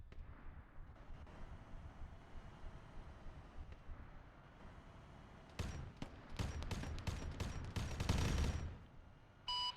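Video game gunfire crackles in rapid distant volleys over a low rumbling background, growing denser and louder toward the end.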